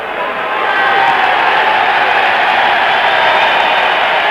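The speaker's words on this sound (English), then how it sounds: "Terry Daniels being cheered by the crowd" A large boxing-night crowd roars and cheers for boxer Terry Daniels, a dense, steady wall of voices and applause that swells slightly and holds loud throughout, with no single voice standing out.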